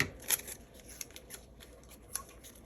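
Scissors cut paper for a planner spread, with a few quick, faint snips and soft rustling of paper close by.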